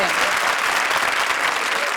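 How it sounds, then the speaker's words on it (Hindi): A studio audience at a comedy show breaks into loud, dense applause that fills the whole moment, with a voice faintly audible underneath. "तालियां"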